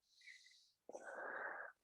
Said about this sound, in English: Big Ujjayi breaths, inhaling through the nose.